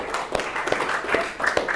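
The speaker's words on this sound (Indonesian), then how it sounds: "tepuk tangan buat Indri" Classroom applause for a student named Indri: a brief patter of hand claps with a few sharper claps standing out, fairly quiet and lasting under two seconds.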